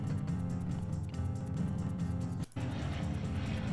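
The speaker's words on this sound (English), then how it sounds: "And there's plane noises." A steady, droning aircraft rumble fills the background, continuous and fairly loud, with a brief dropout midway and no voices.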